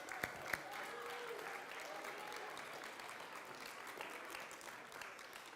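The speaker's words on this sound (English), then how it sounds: "Round of applause for these 2 lovely human beings." An audience at a church confirmation ceremony gives a sustained round of applause, dense clapping with a couple of sharp claps close by at the start, and faint voices underneath.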